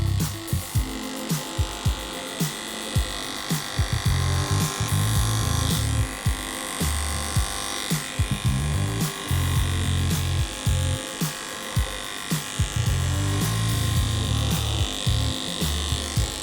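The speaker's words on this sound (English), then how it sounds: "I'm gonna switch to my KM Supera with a 5 blade and clipper the body" A KM Supera clipper fitted with a 5 blade hums steadily while clipping a dog's body, the motor tone dipping and catching in short repeated strokes, close and unaccompanied by talk.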